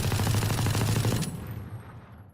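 A burst of rapid automatic gunfire in the video game Valorant, fired through a wall, a dense rattling volley lasting about a second before ringing out, fairly faint.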